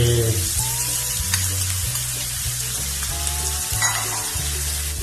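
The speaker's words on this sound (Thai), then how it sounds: "เราก็จะผัด ให้เครื่องของเราสุกได้ที่นะครับ" Oyster mushrooms, vegetarian liver and carrots stir-fry in a pan, with a constant close sizzle and a spatula scraping the pan in a steady rhythm.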